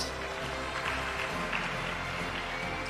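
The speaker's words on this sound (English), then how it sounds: "Can we give them a round of applause?" Audience applause at a primary school prize-giving, a steady wash of many hands clapping together in a hall, continuous and fairly loud for the whole stretch, with no pauses.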